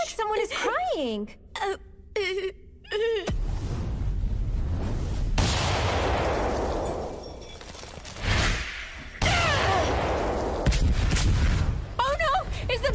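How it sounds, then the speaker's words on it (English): A building explodes in an English-dubbed anime film, with loud sustained rumbling roars and blasts rising and falling, after opening moments of voiced gasps and cries. "Is the building exploding?"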